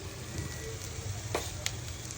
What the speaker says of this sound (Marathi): आपला कांदा पण ब्राऊन होतच आला आहे